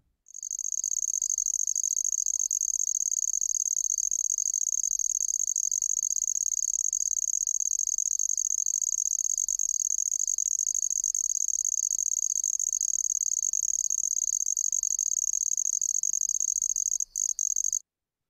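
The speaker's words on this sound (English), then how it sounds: "So that was number two, handsome trig." A handsome trig cricket, Phyllopalpus pulchellus, a tiny ground-dwelling cricket, sings a continuous high-pitched trill that holds steady for about seventeen seconds, clear and alone.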